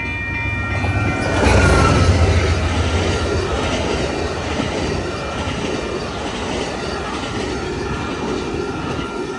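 A freight train rumbles past nearby on the Glidden and Austin subdivisions, steady and loud, with wheels clattering on the rails and a faint squeal high above the roar.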